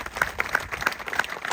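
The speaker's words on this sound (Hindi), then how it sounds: "एक बार जोरदार तालियां आप अपने लिए बजाइए" A crowd of farmers at a gathering bursts into brisk clapping, loud and close, with distinct individual claps landing in a quick uneven rhythm over a short burst.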